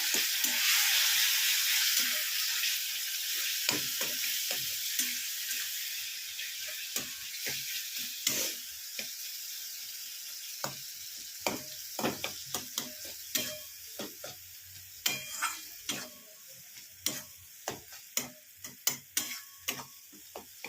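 Egg curry with tomatoes being stir-fried in a pan, a soft sizzle under repeated sharp scraping and clinking of a spatula, the strokes growing more distinct and rhythmic toward the end.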